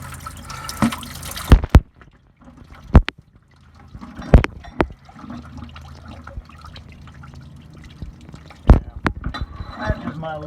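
Coolant water pouring and splashing out of a Ford 302 5.0 engine block on a Bronco during freeze plug replacement, a liquid gush mixed with sharp metallic knocks and clanks, with someone talking in between.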